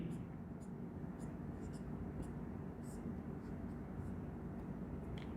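Writing on a board during an electrical engineering lecture on synchronous machines produces faint, intermittent scratchy strokes over a steady room hum.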